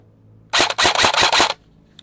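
An E&C G28 airsoft AEG rifle fires a loud, close automatic burst of about a second, its rapid shots clustered in several quick pulses before it stops.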